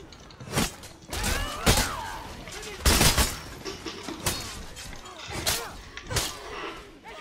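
Arrow volleys loosed by archers in the video game For Honor, a series of sharp whipping bursts and thuds arriving in uneven clusters amid battle noise, with someone talking over them.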